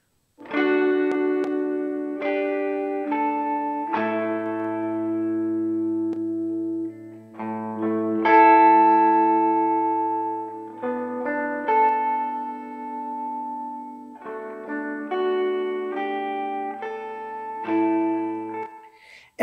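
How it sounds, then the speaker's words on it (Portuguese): A clean electric guitar plays chords and melodic notes through a classic spring reverb plugin, the OSC Audio SpringVerb. The notes ring on in a wash of reverb tail, and no one speaks. "É o tipo de reverb de mola clássico, né? Ideal para você usar justamente em guitarra, principalmente em guitarra limpa."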